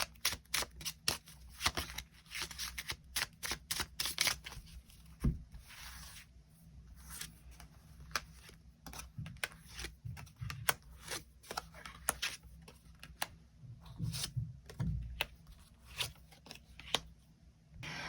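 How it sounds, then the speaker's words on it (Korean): Tarot cards are shuffled and drawn by hand close up, a series of crisp slides, flicks and soft slaps arriving in irregular bursts with quiet pauses between them. "추가 카드 조금 더 뽑아보도록 하겠습니다"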